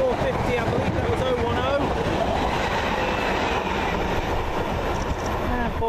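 A train on the South West Main Line rumbles past a platform, loud and continuous with squealing and rattling wheels, while a voice talks faintly underneath.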